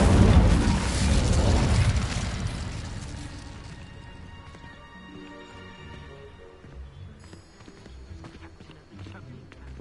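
The Incendio fire spell is cast in Hogwarts Legacy, a loud fiery burst that erupts at once and roars for a couple of seconds, then fades into crackling and quieter game ambience with a voice shouting over it.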